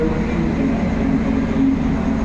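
An Indonesian Bima Executive passenger train pulls out of Jombang station. A steady, loud rumble of rolling carriages fills the whole stretch without a break, with no voices over it.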